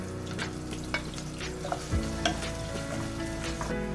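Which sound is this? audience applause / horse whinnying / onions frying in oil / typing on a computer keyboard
onions frying in oil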